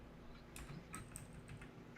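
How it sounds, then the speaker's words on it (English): Keys clack on a loud computer keyboard during a podcast recording, a quick irregular run of faint clicks and taps under a steady low background hum. "I'm using my loud keyboard, so that's what that noise is"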